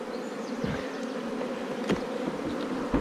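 Honey bees buzz steadily around an opened hive during artificial swarming, a dense, continuous drone close by with a few louder bees passing near, no talking.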